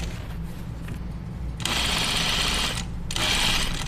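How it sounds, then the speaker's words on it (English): A home sewing machine stitches fabric for a pair of slacks in two sustained bursts, a steady close mechanical whir running loud for about a second and a half, pausing briefly, then resuming. "Your machine wants to sew in a straight line."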